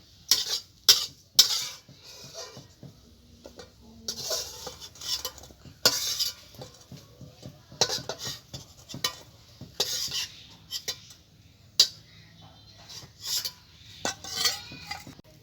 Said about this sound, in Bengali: আলু দেখুন ভাজা হয়ে গেছে, তুলে নিচ্ছি।